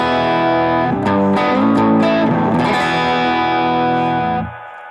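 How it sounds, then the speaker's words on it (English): Sustained distorted electric guitar chords through a BOSS GT-1000 reverb effect, ringing out with a wet, spacious reverb tail that lingers and fades after the playing stops. "you can hear the reverb. Now it's quite wet."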